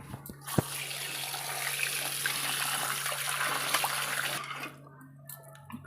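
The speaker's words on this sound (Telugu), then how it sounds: "ఈ చికెన్ ముందు కడుక్కుందామండి మంచిగా నీట్గా" Running water streams steadily from a tap with small splashes and clinks as raw chicken is rinsed under it, then stops near the end.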